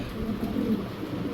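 Adana pigeons coo in a steady low murmur, soft and continuous, close by with no talk.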